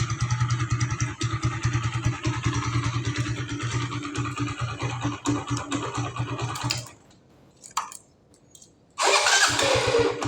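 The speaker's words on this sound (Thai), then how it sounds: "เครื่องเงียบกิ๊บเลย" A Honda Sonic kick-start motorcycle engine chugs steadily for several seconds, drops almost to silence with a brief blip, then roars back loudly with a rev.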